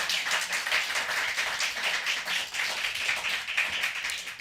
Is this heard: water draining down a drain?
no